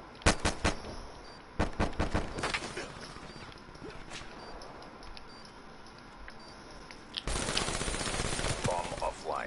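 Sharp bursts of gunfire from the video game Fortnite crack in quick clusters at the start, then thin out to scattered shots over a busy game background.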